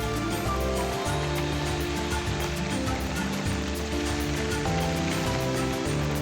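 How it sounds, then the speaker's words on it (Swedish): Steady, dense afternoon rain shower in the Amazon pouring down without a break, a broad wash of drops with a low rumble underneath and no voices. "När eftermiddagen kommer, ja, då kommer också regnskurarna."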